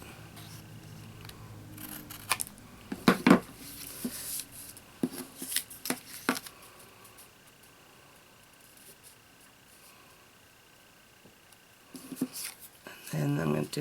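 Scissors snip through paper for a homemade birthday card in a run of short, close, crisp cuts. A few more snips follow after a quiet pause, and someone talks softly in between.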